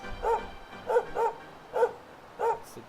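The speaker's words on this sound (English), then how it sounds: "It's the dog barking." A dog barks in the video game Dragon Quest 11, five short, evenly spaced woofs, clear and fairly loud over quiet game ambience.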